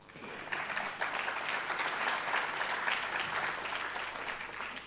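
An audience at a mathematics congress applauds steadily for about five seconds, a dense field of clapping heard from a moderate distance with no voices over it.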